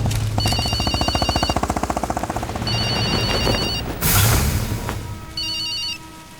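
A mobile phone rings in short repeated electronic bursts, loud and close, amid busy sound-effect noise and a brief burst of rushing sound, with no talk.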